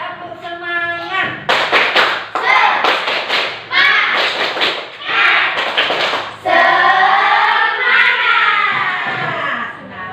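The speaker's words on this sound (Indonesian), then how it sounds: "Berarti kita sekarang tepuk semangat." A primary school class performs the 'tepuk semangat' clapping chant, loud rhythmic clapping bursts in patterned groups mixed with children chanting in unison, close and energetic, ending in a chanted vocal line.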